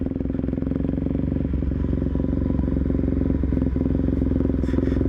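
A Suzuki DR-Z dirt bike rides a green, overgrown grassy trail, its single-cylinder engine thumping loud and near at a steady pace, with clattering and a few throttle rises.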